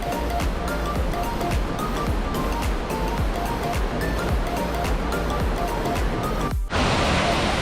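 A powerful, continuous roar of rushing water from Thi Lo Su waterfall in Thailand, loud and steady, with a brief dip near the end before the roar returns even brighter.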